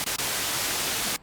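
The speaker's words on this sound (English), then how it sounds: "that's what I was going to show you about bringing in the white noise in a very easy way" White noise from a Behringer K-2 / Korg MS-20 analog synthesizer: a steady, loud hiss that cuts out briefly twice near the start and once at the end.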